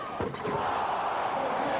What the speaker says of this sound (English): The crowd rises. They explode.